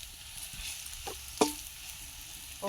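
Chili sizzles faintly in oil in a pan of village-style chicken curry, a low steady frying hiss broken by a couple of sharp stirring clinks.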